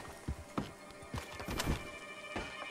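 Horses in the video game Red Dead Online, hooves thudding in a few uneven beats with a soft whinny mixed in, close by but fairly quiet over a steady background.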